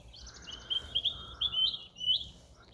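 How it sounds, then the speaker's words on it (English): Small birds chirp in a garden at Brodsworth, a run of bright, high tweets in short bursts, moderately close against quiet outdoor background. "Tweety birds."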